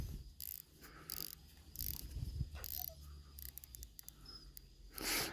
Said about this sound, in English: Beautiful bezel action